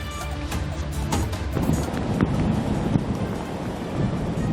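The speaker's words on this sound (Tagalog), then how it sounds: "Mabagsik ang mga alon, lalo rito sa bahagi ng karagatang sakop ng Barangay San Miguel sa bayan ng San Antonio." Rough sea waves pound and surge along the coast of Barangay San Miguel, San Antonio, Zambales, during a storm surge, a loud continuous roar with rolling crashes and wind buffeting the microphone.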